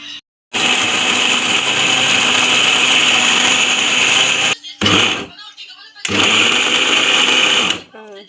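A mixer grinder whirs loudly in two long bursts, a steady high-pitched motor roar, stopping briefly between runs with a short clatter.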